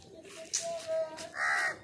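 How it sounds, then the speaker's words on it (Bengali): A crow caws in a few separate short calls close by, with quiet background sounds between them. "এই যে কাক"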